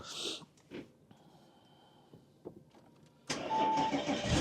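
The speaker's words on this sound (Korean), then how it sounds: "시동을 한번 켜볼게요" An Audi large sedan's engine cranks and catches after a few faint clicks and cabin noises, then settles into a steady, fairly loud idle close by.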